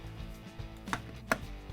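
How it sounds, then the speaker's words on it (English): A GE dishwasher door swings shut after a lower dish rack roller repair, giving two sharp, fairly quiet knocks about half a second apart with no talking. "Now we can close the door."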